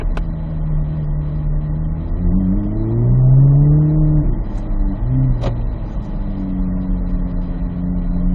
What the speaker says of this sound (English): As we go straight, give me some acceleration.